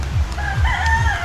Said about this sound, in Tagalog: tulad nito, mga manok, yan, manok.